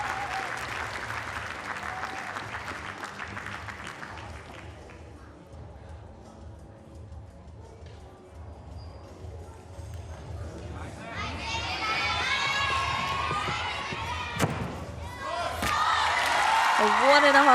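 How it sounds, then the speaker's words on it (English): Home crowd at a women's vault event at the Koper World Challenge Cup erupts in loud applause and cheering, building over several seconds to a sustained roar, with a commentator speaking over it. "loud cheer from her home crowd."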